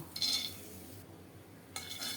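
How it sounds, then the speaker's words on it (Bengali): A kadai wok being washed after frying cabbage, with two short bursts of scrubbing, clinking and water noise separated by a quiet pause, close and moderately loud with no voices. "বাঁধাকপিটা নামিয়ে কড়াইটা একটু ধুয়ে দিলাম"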